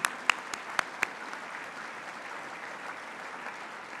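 A few sharp, distinct claps ring out near the start, then a softer wash of clapping carries on at a fairly even level from an audience at a World Citizen award dinner honoring a community college president.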